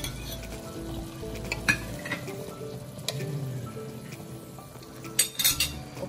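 Half-cooked squid goes into a hot pan with meat for Papa's spicy squid and is stir-fried, a steady sizzle with scraping stirs and a few sharp utensil clinks against the pan near the end.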